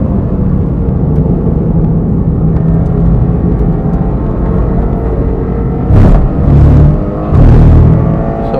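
A Toyota GR86 engine pulling hard around Fuji Speedway in third gear, a loud steady in-car drone and rumble with a few rising surges near the end.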